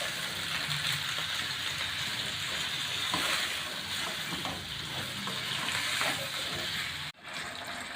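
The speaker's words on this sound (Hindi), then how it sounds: "तकरीबन 4 से 5 मिनट में आलू को अच्छे से फ्राई करूँगी।" Potatoes fry in a pan with green chillies and cumin, a close, continuous crackling sizzle with scraping stirs now and then that holds steady before a brief dip near the end.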